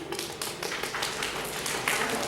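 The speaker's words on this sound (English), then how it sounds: "Let's all clap with 1 finger." An audience claps with one finger, giving light, quick tapping that comes in uneven bursts, a soft patter rather than full applause.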